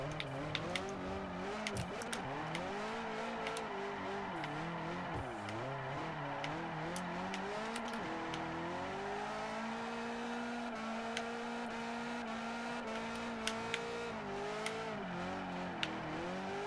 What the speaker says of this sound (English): I am brake drifting a few corners just to make sure I can keep that angle